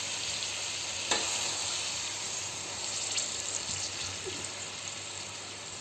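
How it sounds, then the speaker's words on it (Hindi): Low sizzling and bubbling from a pot of chicken cooking for haleem, with a soft splash of water poured in early, steady and fairly quiet throughout. "अब हम इसमें पानी लगा देंगे ताकि चिकन गल जाए।"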